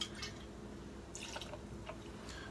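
Clear rum is poured over ice in a cocktail glass, making faint, brief liquid trickles and drips against a quiet room background.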